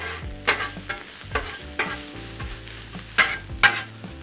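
Chorizo and potatoes in canola oil sizzle on a Blackstone griddle while a spatula stirs them, sharp metallic scrapes and taps landing irregularly over a low steady frying hiss, close up with no voices.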